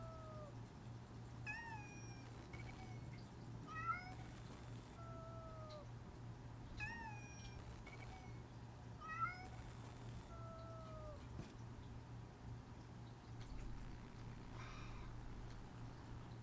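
A kitten in a video game meows repeatedly, short high rising and falling cries spaced a second or two apart over a quiet, humming background.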